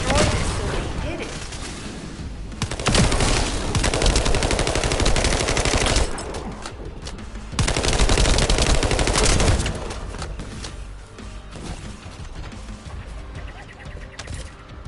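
Rapid machine-gun bursts and gunfire in The First Descendant, loud and close, coming in heavy volleys with short lulls between them as the firing rises and falls.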